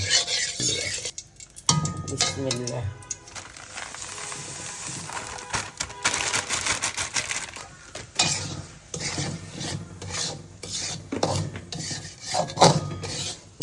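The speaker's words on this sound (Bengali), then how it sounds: "ঘি দিয়ে সুজিটা ভেজে নেব" Semolina roasts in ghee in a pan while a spoon scrapes and rubs steadily against the metal in a rough, rasping rhythm, close and moderately loud, with brief clatters and pauses.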